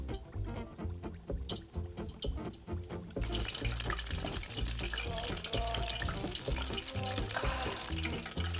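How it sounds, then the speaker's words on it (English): Corn dogs frying in 350-degree oil, a dense sizzle that swells abruptly partway through and then holds loud and steady, with rhythmic music running underneath. "Now we're going to dunk them in our oil. That is 350 degrees"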